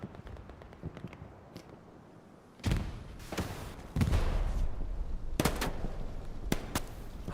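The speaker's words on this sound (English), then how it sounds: "Heidi, taking some shots from the left." Gunfire in the Hell Let Loose World War II shooter on the Hurtgen Siegfried Line map, with scattered sharp shots and bursts at varying distances over a low battlefield rumble.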